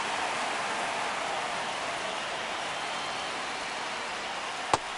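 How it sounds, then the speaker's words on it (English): Steady rain pours over a baseball stadium in MLB The Show 25, a dense even hiss throughout with a single sharp tick near the end. "This rain is not letting up."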